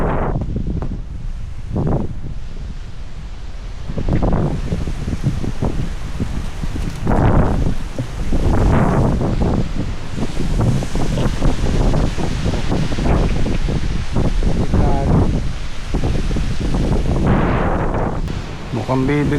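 Strong gusting wind shaking leaves and a garden trellis outdoors, like storm weather without rain, a loud roaring rush that surges in repeated waves with heavy microphone buffeting, with a person speaking at moments.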